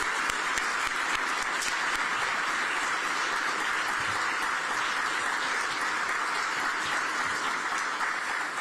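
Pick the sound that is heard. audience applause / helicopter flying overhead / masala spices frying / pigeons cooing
audience applause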